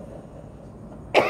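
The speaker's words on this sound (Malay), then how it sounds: "Batuk pula, ya." A single short cough at the very end follows a quiet room tone, close to the microphone during a religious lecture.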